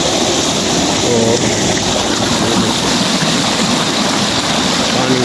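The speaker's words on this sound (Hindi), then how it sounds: "पानी जो है इतना जोर से निकाल कर जा रहा है," Irrigation water gushing forcefully from an opened outlet into a vegetable and maize field, a loud, steady broadband rush that continues without a break, with a brief word spoken over it.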